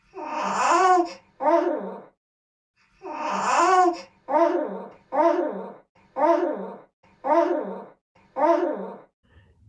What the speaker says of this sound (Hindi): एक शिशु की ध्वनि